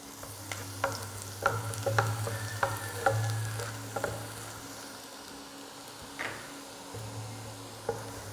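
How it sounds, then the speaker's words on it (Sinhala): Chopped garlic frying gently in oil over low heat, with a soft continuous sizzle broken by repeated scraping stir strokes of a utensil in the pan, close and fairly quiet, with no talk. "ඒකත් ගොඩාක් අඩු ගින්දරේ රන්වන් පාට වෙනකම් මේ විදිහට කවලම් කර කර fry කරගමු."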